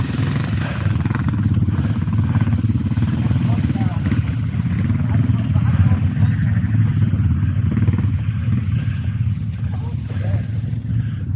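Motorcycles with sidecars riding to an outdoor rally on a fine day, a continuous low engine rumble and drone throughout, with a person talking over it.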